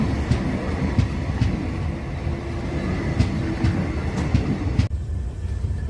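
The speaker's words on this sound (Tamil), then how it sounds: "இப்போ மந்தகரை ஸ்டேஷன்ல இருந்து டிபார்ட் ஆகிட்டு இருக்கோம்" Passenger train pulled by a WDP-7 locomotive on South Western Railway between Mysuru and Hassan, pulling out of Mandagere station: loud steady rumble with rhythmic wheel clacks on rail joints, then a sudden drop to a quieter hum near the end.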